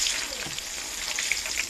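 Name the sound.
frying white dabri for chanachur on low flame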